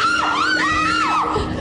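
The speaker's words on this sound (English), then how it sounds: "I jumped up and screamed" A person screams in fright during a nighttime ghost hunt in a house at Chillingham Castle, letting out a loud, shrill cry that rises and falls in wavering bursts for over a second.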